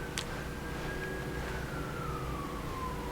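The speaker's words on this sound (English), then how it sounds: "More freaking sirens?" A distant siren wails with a slowly falling tone over steady background rumble, faint and continuous.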